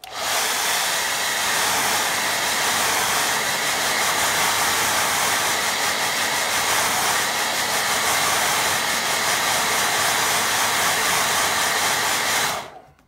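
A hair dryer blows on a watercolour painting, a loud, close, steady rushing whir that runs unbroken for about twelve seconds before cutting off abruptly, with no talk.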